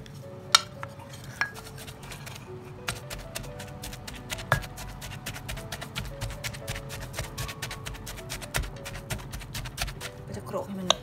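A pestle pounds dried chili paste with fried mackerel and fish sauce in a mortar, making repeated sharp knocks and clinks in an uneven rhythm, close by and fairly loud over a quiet room.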